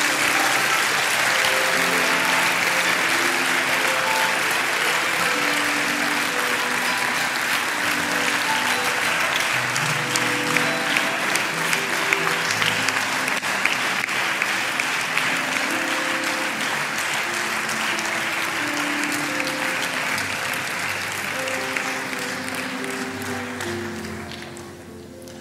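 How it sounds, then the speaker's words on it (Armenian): A church congregation at a family celebration service claps steadily for a long stretch. The dense, sustained applause is layered over background music with held notes, and it fades slightly toward the end. "Եկեք ծափարենք, որ մենք ունենք այս երիտասարդությունը"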